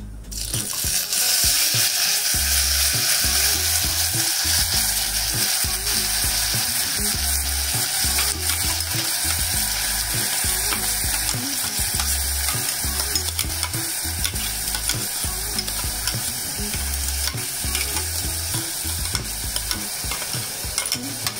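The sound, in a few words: sautéing ground masala with turmeric in oil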